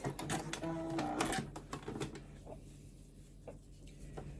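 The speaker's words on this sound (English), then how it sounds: "I'm just going to try doing a standard straight stitch on my machine" A home sewing machine runs a standard straight stitch on denim at a 2.5 stitch length, giving a fast, rhythmic mechanical whirr up close that slows and fades to a quieter hum after about two seconds.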